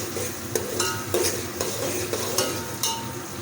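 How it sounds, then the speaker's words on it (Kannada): Onions and biryani leaf frying in a pan for mushroom and paneer biryani, a steady soft sizzle with occasional clinks and scrapes of a spoon stirring against the pan. "ಬಿರಿಯಾನಿ ಎಲೆ ಮತ್ತು ಈರುಳ್ಳಿ ಹಾಕ್ಕೊಂಡು ಚೆನ್ನಾಗಿ ಫ್ರೈ ಮಾಡ್ಕೊಳ್ಳಿ"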